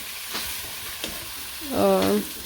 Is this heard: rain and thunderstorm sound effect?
no